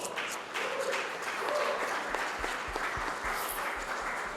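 An audience at a church event applauds a pastor being introduced, a steady wash of clapping heard at a moderate distance with a few louder thumps, and no voices over it.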